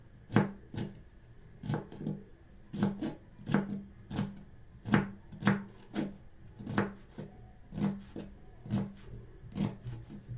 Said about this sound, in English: I'm chopping the capsicum and the tomatoes as I wait for my meat to boil